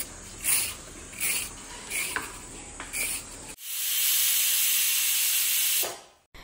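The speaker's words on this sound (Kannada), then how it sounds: "ಸ್ವಲ್ಪ ಕೊಬ್ಬರಿ ಎಣ್ಣೆಯಲ್ಲಿ ಇದನ್ನು ಹುರಿತಾ ಇದ್ದೀನಿ." Vegetables and raw mango stir-frying in coconut oil, a loud steady sizzle and hiss rising suddenly as food hits the pan, preceded by a few clinks and stirring scrapes, no talk.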